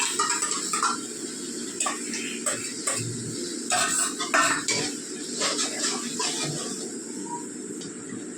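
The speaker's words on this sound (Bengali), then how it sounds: "এবার এই টক দইটা, ফ্যাটানো টক দইটা দিয়ে দিচ্ছি" Beaten sour yogurt added to a pan while cooking an egg dish, with a spoon clinking and scraping against the pan over a steady sizzling hiss, repeated light metallic taps throughout.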